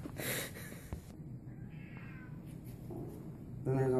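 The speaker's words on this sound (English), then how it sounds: "they're also kittens that you can adopt from here" Kittens at an animal adoption center give a few short, faint meows, with a quiet room behind them. A brief voice and a louder noise come at the very end.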